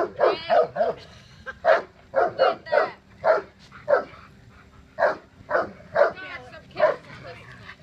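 A dog barks repeatedly indoors, sharp close yaps in quick bursts with short gaps, while people talk nearby.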